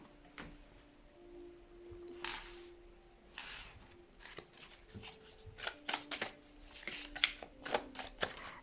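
A new tarot deck is shuffled by hand in repeated riffles and taps, quiet and close, with the soft card flutters coming faster and louder toward the end.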